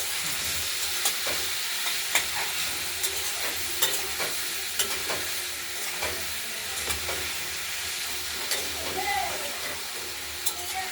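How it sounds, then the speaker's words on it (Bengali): Spices and turmeric sizzle and fry in a pan for a vegetarian pea ghugni, a steady hiss broken by regular scrapes and clicks of a spoon stirring, close and fairly quiet throughout. "ভাজা ভাজা করে নিই।"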